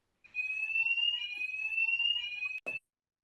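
An electronic alarm goes off in a room during a panel event, a steady high piercing tone sounding continuously for about two seconds, cutting out briefly, then a short final burst, with no one talking over it.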